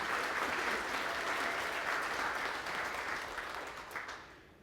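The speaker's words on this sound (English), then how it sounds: "Let's have a round of applause for the beautiful prelude music" Audience applause at a college concert band Mother's Day performance, following prelude music: a dense, steady clapping from a crowd that holds for several seconds and then tapers off.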